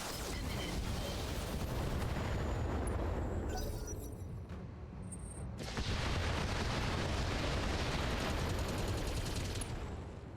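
Mech weapons fire and explosions roar in the BattleTech video game, a dense, continuous barrage of loud booms and gunfire with a brief lull midway before the heavy firing resumes.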